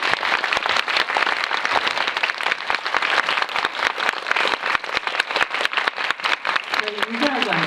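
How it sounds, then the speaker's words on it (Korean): A cinema audience at a film talk screening of House of Hummingbird claps loudly for the director and actors, with fast, dense hand claps continuing throughout. A voice is heard briefly near the end. "큰 박수 부탁드립니다."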